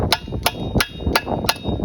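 Sharp metal-on-metal hammer blows ring out as a stuck piston in a Briggs flathead Craftsman push mower engine is struck five times in a steady, quick rhythm, close and loud with no voices.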